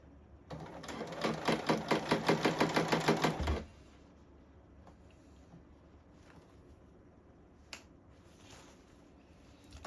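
Sewing machine stitching the lining seams of a blazer, a fast regular burst of needle strokes for about three seconds, then stopping and leaving quiet room tone with a couple of small clicks.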